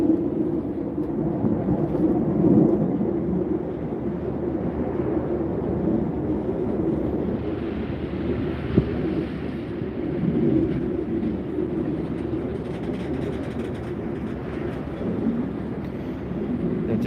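A freight train rolls past on the railway in a long continuous rumble and clatter, loud and steady throughout with rushing wind noise and no break in the sound.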